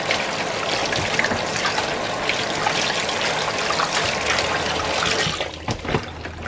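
Water poured into a basin to rinse catfish, a loud steady splashing stream close by that tapers off near the end, with no talking.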